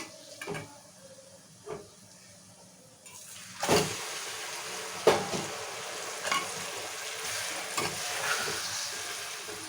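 Mutton cooks with masala spices in a little oil, giving a soft continuous sizzle broken by repeated scraping stirs of a spoon in the pan at irregular intervals.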